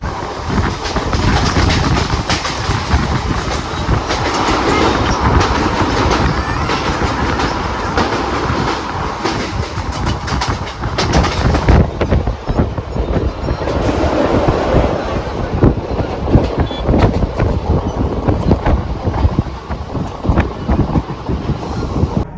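A Diva–Vasai MEMU electric train rolls steadily along the tracks with loud rumbling and rhythmic clacking of wheels, wind buffeting throughout, no voices.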